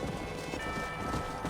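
Horse hooves clip-clop in Red Dead Redemption 2, a quick, steady patter of several horses close by over a busy game soundscape, with no talk.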